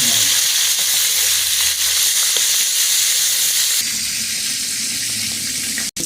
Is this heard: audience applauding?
no